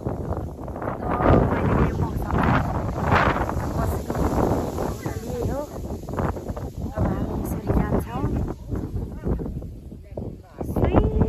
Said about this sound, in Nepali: तर हावा चलिरहेछ